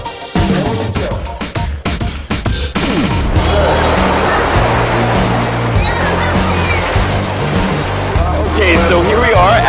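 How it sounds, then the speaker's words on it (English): The waterfall at the entrance to Cheonggyecheon in Seoul pours in a loud, steady broadband rush that fills the scene, with voices talking underneath. "There's a waterfall here that marks the beginning and the spot."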